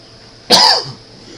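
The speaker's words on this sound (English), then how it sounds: "I have a bit of a cough, by the way, so apologies" A single short, sharp cough, close and fairly loud, against quiet background.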